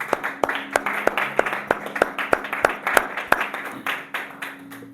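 A church congregation claps steadily in an even rhythm for several seconds, the sound close and moderately loud with faint murmuring beneath.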